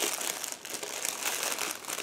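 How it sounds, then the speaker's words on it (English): A plastic bag holding a 1/24 Aoshima Nissan GT-R R35 model car body being opened, a close, continuous crinkling and crackling of thin plastic with no talk. "car body, which is packed into the separate plastic bag. Again, I need a second to open it"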